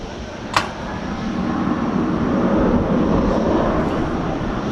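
American Airlines jet airplane at DFW Airport at night, a broad engine roar building slightly and holding steady at moderate distance, with a short sharp click early on.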